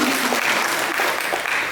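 An audience claps steadily and densely throughout, a continuous wash of many hands at moderate volume with no voices over it.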